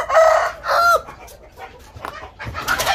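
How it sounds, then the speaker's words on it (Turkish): Wild chickens cluck close by while a rooster crows in short, loud bursts, with quieter clucking and rustling between the calls and no talking; the wild hens lay eggs outdoors and have newly hatched chicks. "Benim tatlı tavuğum benim yanımda. Horozlardan kaçtı, bana sığındı."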